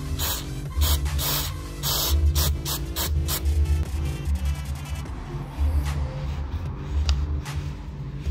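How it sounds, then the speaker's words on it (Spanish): A Suzuki AX100 motorcycle carburetor being cleaned: bursts of spray cleaner hiss in short repeated blasts over a steady low mechanical hum, then fade into a softer, quieter stretch, close by. "Mientras esperamos, vamos a limpiar nuestro carburador."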